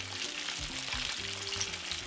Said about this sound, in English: whatever you're frying away from you so that you don't get the splashes or the splatters from the oil